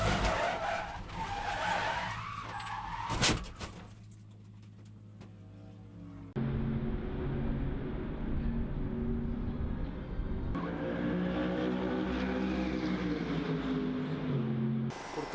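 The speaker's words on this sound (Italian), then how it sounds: "l'incidente che avete appena visto è stato il mio compagno di squadra che gli è partita la macchina" A Lamborghini race car spins out during early track testing: tires skid and squeal loudly up close, then after a brief lull an engine drones on steadily with shifting pitch.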